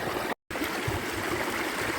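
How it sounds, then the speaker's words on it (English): A small babbling brook, the Upper Crowden Little Brook in the Peak District, rushes and gurgles in a steady, close, continuous wash of water, cut off by a brief moment of silence. "Above my waterfall of failure, we are just back to Babbling Brook status."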